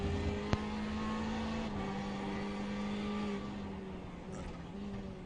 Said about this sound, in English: we got a good little group of cars here coming out of turn 6 onto the backstretch here